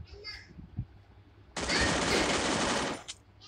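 A Thompson submachine gun fires in a Free Fire clash squad match, one loud sustained burst of rapid automatic gunfire lasting over a second, preceded by faint game sounds and brief voices.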